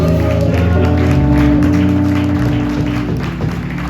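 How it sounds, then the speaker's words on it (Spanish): A congregation at a family camp church service claps for Jesus, brief clapping over sustained music with strong bass and held tones, the sound fading slightly toward the end. "Alguien puede darle aplauso al Señor Jesús."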